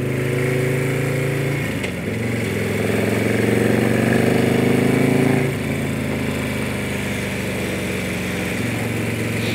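A Harley-Davidson motorcycle fitted with a Screamin' Eagle SE120R engine runs loud and close, a deep, lumpy idle rising into two or three throttle blips that rev up then settle back, with no talking.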